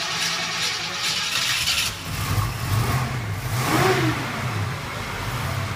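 A 1969 GT convertible whose flex plate was replaced to cure a vibration at 4,000 RPM: the engine fires up and revs in rising, falling swells, loud and close, with no voices.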